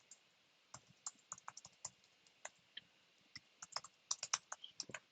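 Quick, irregular keystrokes on a computer keyboard, soft close clicks in short bursts with brief pauses and no talking.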